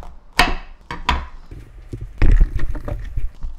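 A knife chops through a pumpkin on a cutting board in a home kitchen, with two sharp thunks followed by duller cuts and scraping knocks, close and fairly loud.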